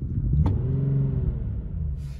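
Car exhaust and engine idling heard from inside with the door closed, a low muffled steady rumble with a faint uneven drone.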